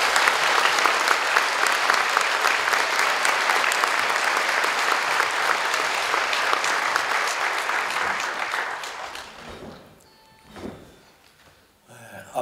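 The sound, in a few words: audience applause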